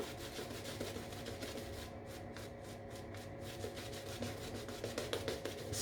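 A well-drained shaving brush whips up lather on a shaving soap with a steady, wet rubbing swish that stays close and even throughout, with no talking.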